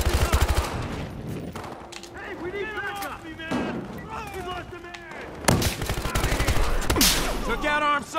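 Rapid bursts of gunfire from the Battlefield Hardline shooter game crackle throughout, mixed with game effects and a louder burst near the end, while players talk over the action.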